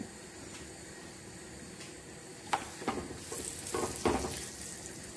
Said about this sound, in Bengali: এখন আমি পরোটা ভাজিয়ে নিব